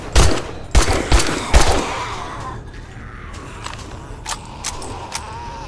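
Gunfire from the video game 7 Days to Die: several sharp, loud shots in quick succession early on, then a few fainter, scattered shots as the echo dies away.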